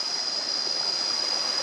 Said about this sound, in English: A stream